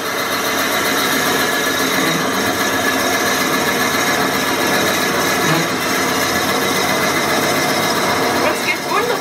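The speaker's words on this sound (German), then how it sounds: "gerade bei so großen Forstnerbohrern ganz langsam laufen zu lassen" Large Forstner bit boring a hollow into wood on a lathe, turning slowly to make a tea-light holder; a continuous whirring, scraping drone close by, steady throughout with slight variations.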